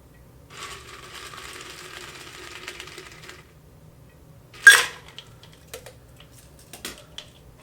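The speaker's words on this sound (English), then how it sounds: "we don't need a double strain since we're pouring it into a glass of ice" Alabama Slammer cocktail poured into a Collins glass of ice: a stream of liquid trickles over the cubes for a few seconds, then ice clinks and taps sharply, alone and close.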